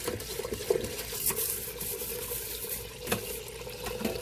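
Water runs from a tap into a kitchen sink as it fills, a steady close splashing and gurgling stream with occasional clinks and no talk.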